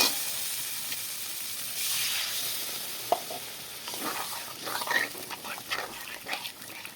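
Water poured into a sizzling pan of spiced singi fish curry, a steady close hiss that flares into bursts of bubbling and spitting as the liquid hits the hot masala.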